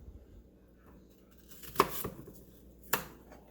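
A knife chops through beets on a board, with a few sharp, separate cuts against soft background handling, close and fairly quiet.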